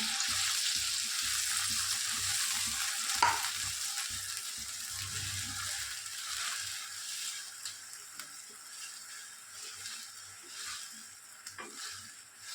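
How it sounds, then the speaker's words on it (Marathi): Semolina is stirred into boiling water in a pan, giving a soft, continuous bubbling hiss with occasional faint scraping knocks from the spoon, close and fairly quiet. "एका हाताने रवा घाला, एका हाताने हलवा"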